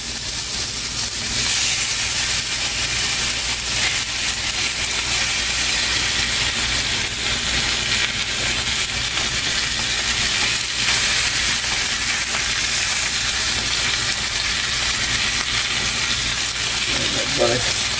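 Pork chops sizzle in a hot pan, a steady hiss and crackle of frying running throughout at moderate level, with no talking over it.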